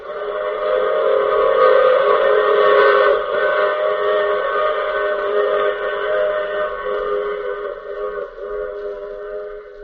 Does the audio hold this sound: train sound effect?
yes